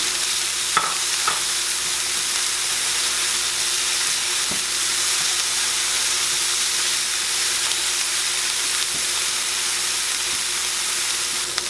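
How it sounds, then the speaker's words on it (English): Ham browning in a pan for air fryer breakfast biscuit bombs, giving a steady close sizzle and frying hiss throughout with a few faint stirring clinks, no talking. "Now I'll just add the ham, brown that up just a little."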